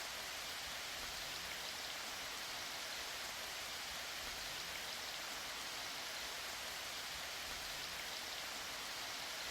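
Steady rain falls in an even, soft hiss with no breaks or voices, a constant distant wash of drops across the whole stretch.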